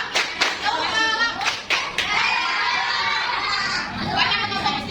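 Children clap together during a classroom clapping game, with sharp bursts of clapping early on, followed by lively children's voices and crowd chatter over more clapping.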